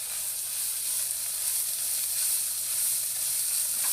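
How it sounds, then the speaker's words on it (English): Sultana raisins hit a hot pan and are stirred around, producing a bright, constant hiss of sizzling at close range, steady and unbroken with no talking. "So I'm going to put those in. We're going to stir it around."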